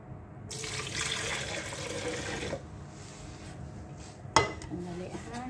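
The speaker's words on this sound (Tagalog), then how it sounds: "ang gawin po natin ay yung tubig po ilalagay na natin" Water runs from a tap into a pot while cooking kabab saluna with potato, a steady close splashing stream that stops, followed by a sharp clink of cookware.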